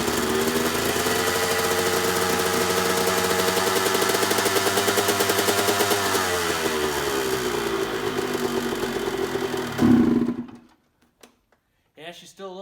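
A cold CR125 two-stroke motorcycle engine at about ten degrees runs loud and close with a buzzy, crackling idle that rises and falls, then cuts off abruptly into near silence; a voice speaks briefly at the end.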